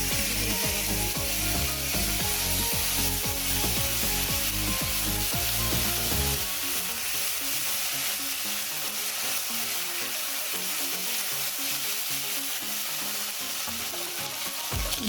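Spices fry in a pan for Bengali chal kumro ghonto, a loud continuous sizzle close up with rhythmic scraping of a spatula stirring, steady throughout with no talk.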